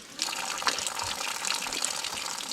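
Spring water from a hillside source runs steadily through a pipe in the Knuckles range, a bright continuous trickle and splash heard up close with no voices.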